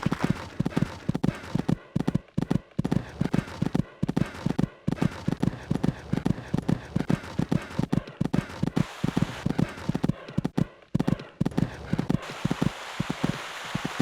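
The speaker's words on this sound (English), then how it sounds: "This horse just cantering along this part of the course." Steady rhythmic hoofbeats of a horse cantering in the video game Equestriad 2001, clear and close, repeating evenly with a faint whoosh of air beneath.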